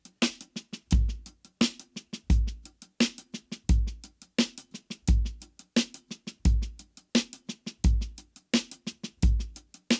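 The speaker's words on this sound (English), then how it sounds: "So our hands now are going to be playing paradiddles the whole time." A drum kit groove with the hands playing paradiddles across the kit, with snare 16th notes over recurring low kick drum hits. The pattern is steady, close and unaccompanied, with no voices.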